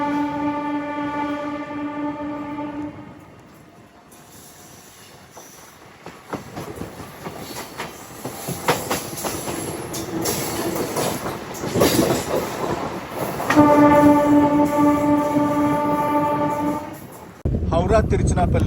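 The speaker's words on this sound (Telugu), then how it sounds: "అదేంటి హాంకింగ్ కొట్టారు అయినా తీయట్లేదు బండి" A MEMU train horn sounds twice at Tanguturu station, a long steady blast at the start and another near the end, with rumbling carriage noise and a voice talking in between.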